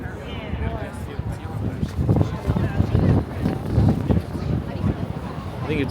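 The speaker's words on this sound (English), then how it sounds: "I think it's so windy because it's warming up." Wind gusts buffet the microphone on a Manhattan street, a steady rushing roar that swells and ebbs, with people talking nearby throughout.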